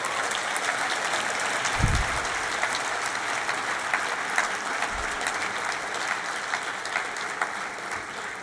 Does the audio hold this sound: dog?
no